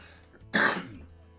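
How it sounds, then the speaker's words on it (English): One sharp, loud cough bursts out close to the mic from a livestreamer in the middle of commentary, then trails off into quiet room tone. "Hang on, cough coming up"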